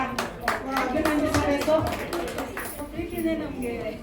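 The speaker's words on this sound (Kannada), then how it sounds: "ಅವರಿಗೆ ಎಲ್ಲರೂ ಸೇರಿ ಒಂದು ಚಪ್ಪಾಳೆಯ ಮೂಲಕ" Audience hands clapping at an APJ Abdul Kalam award ceremony, honouring the presenter: a steady, moderately close round of applause with voices talking over it throughout.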